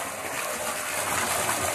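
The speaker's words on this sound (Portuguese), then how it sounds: "Já caiu água aqui." Water gushes steadily from an irrigation pipe after a valve is eased shut, a dense continuous rush filling the whole clip at close range with no talk.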